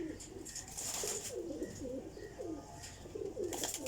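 Pigeons coo continuously in low, rolling, repeated calls close by, several birds overlapping in a steady rhythm, with faint background hiss and occasional higher chirps.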